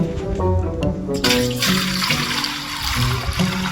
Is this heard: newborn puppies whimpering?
no